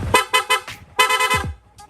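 Dual horn fitted to a Sniper 150 motorcycle honks in several sharp, loud bursts: three quick beeps, then one longer blast that breaks off, ending with a faint short toot.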